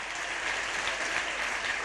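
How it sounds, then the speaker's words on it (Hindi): Continuous, even applause from a large audience at a Hindi poetry recitation during a daily religious discourse gathering, a dense wash of clapping heard from some distance with no talking. "बजाइए एक बार जोरदार।"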